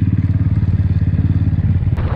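A motorcycle cruises along an empty road on the outskirts of Kalyan, its engine giving a loud, steady, throbbing pulse close to the rider, with no voices.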